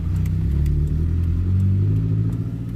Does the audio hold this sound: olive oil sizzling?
no